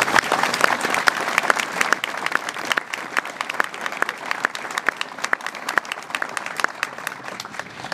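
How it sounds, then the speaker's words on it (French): An outdoor crowd applauds during the Prince of Monaco's official visit to Prats-de-Mollo, a lively, sustained patter of many hands with sharp individual claps standing out throughout, fairly close and loud. "Je crois qu'on peut les applaudir."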